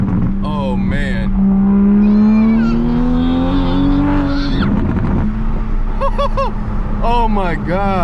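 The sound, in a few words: Toyota Supra revving with loud Tomei titanium exhaust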